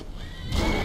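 A horse in the Skyrim video game gives a short, loud whinny while an ice troll attacks it, the cry bursting in abruptly after a quieter moment.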